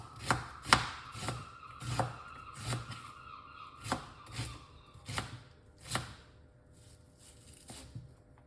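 White onion being chopped with a knife on a board, about a dozen crisp, evenly spaced cuts over several seconds, close and fairly quiet with no talking.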